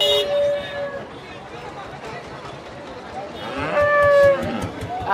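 Cattle moo loudly nearby at the Navaron livestock market in Bangladesh, one call at the start and another near the end, over a busy bustle of people talking in the background.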